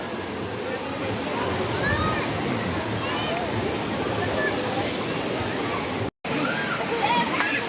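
Taytay Falls in Laguna pours in a steady, close rushing wash of falling water that runs unbroken throughout, with a crowd of people chattering faintly underneath and a brief dropout near the end.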